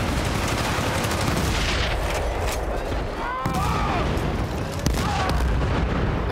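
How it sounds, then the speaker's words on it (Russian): A planted demolition charge detonates in Battlefield: Bad Company multiplayer, a heavy booming blast amid continuous gunfire and battle noise, loud and dense throughout with distant crackling. "Заряд установлен. Взрываю."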